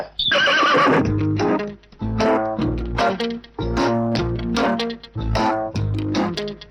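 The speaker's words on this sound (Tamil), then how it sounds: "இந்த குதிரை புதுக்க நிக்குது எனக்கு பயமா இருக்கு" A horse neighs and whinnies loudly and close by in several repeated bursts, with no talk over it.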